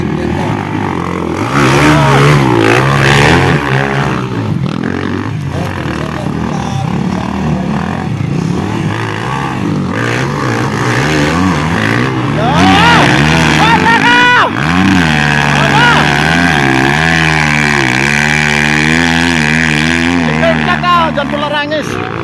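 Racing motorcycle engines rev and whine loudly over a continuous roar during a race, one bike smoking, with excited commentary talking over them throughout.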